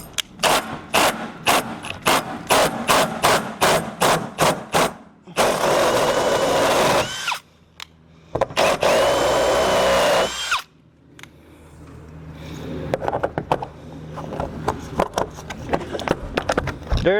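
A power tool drills through aluminum while installing a water inlet on a truck overland camper, with a rapid series of short bursts, then longer sustained whirring runs, close and loud, separated by brief pauses.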